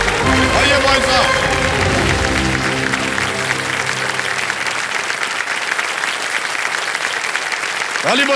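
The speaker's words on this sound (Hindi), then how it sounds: "ताली बजते रहे, ताली बजती रहे।" A studio audience on a quiz show applauds loudly and steadily in dense, continuous clapping, while a voice briefly rises over it at the start.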